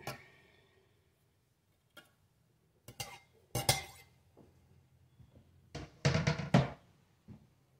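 Dishes clinking and clattering in a kitchen sink, with scattered sharp knocks and a louder cluster of ceramic and metal clanks near the end, close by, separated by quiet gaps and no talk.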